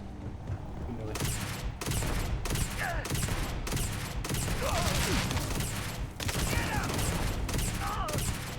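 Rapid bursts of gunfire from the Starfield Shattered Space video game crackle in loud, repeated volleys separated by brief gaps, with whooshing and mechanical effects layered among the shots.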